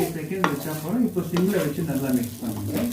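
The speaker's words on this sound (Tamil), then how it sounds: "இது கொஞ்சம் தவா வந்து ஹீட் ஆக ஆரம்பிச்சிருச்சு. பாருங்க, இந்த சவுண்ட் வருது இல்லையா?" Lemon rice cooking on a heated tawa pan gives a steady sizzle with stirring scrapes across the whole stretch, and a murmur of voices sits underneath.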